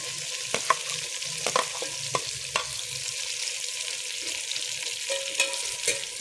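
Ginger garlic paste for chicken biryani sizzles steadily in a pan while being stirred, with quiet scraping clicks of the utensil at irregular intervals.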